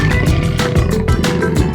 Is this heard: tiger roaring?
yes